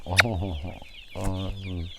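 Young chicks due for a plague vaccine calling in short voiced clucks and peeps, close and fairly clear, in two bursts separated by a brief pause.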